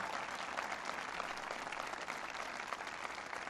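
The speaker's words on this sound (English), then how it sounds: "please give Mark another round of applause for his hospitality" Applause from a crowd gathered for a speech by President Obama, a continuous wash of many hands clapping, even and sustained throughout, somewhat distant.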